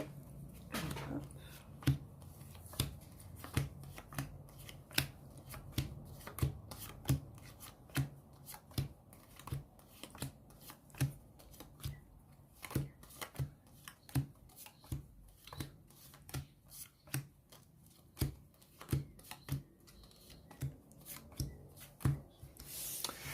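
Playing cards cut and dealt at a table during a four-player game of Nambarz, a steady run of sharp, close card slaps and snaps that keeps going throughout, with faint speech behind it.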